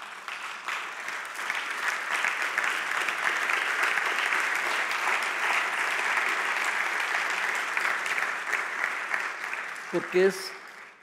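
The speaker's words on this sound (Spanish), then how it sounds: "yo quiero que aplaudamos al Espíritu Santo" A church congregation breaks into sustained, dense applause that holds steady for about ten seconds, loud and enveloping, with a voice cutting in briefly near the end.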